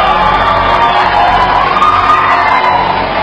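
A debate audience watching Donald Trump and Secretary Clinton erupts in loud, continuous cheering, whooping and shouting, a dense roar of voices that fills the room without a break.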